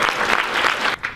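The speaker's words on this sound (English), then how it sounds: "So give him an applause, please." An audience claps for a pastor at a scholarship awards event, a dense, close burst of applause that briefly dips near the end and then resumes.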